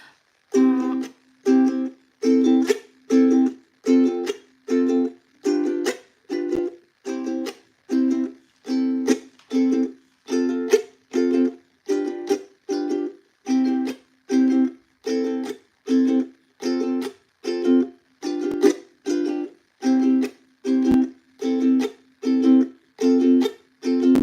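Ukulele strummed in a steady down-up rhythm with sharp muted chucks between strokes, bright and close, repeating evenly without any voices.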